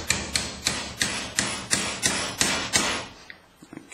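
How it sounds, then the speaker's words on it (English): A hammer strikes a centre punch on a hardened mortice lock plate, giving about nine sharp metallic taps at a steady quick rhythm, close and clear, then a few faint softer knocks. "First thing I need to do is just centre punch that."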